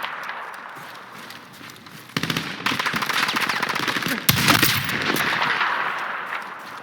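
Rapid gunfire in a Battlefield video game, dense automatic bursts that grow louder partway through and keep going with a sharp crackle, with no talking heard.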